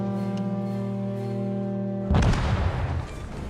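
An enemy cruiser is destroyed in a naval battle game: a steady droning hum gives way to a sudden loud explosive burst with a rumbling roar, which fades after about a second.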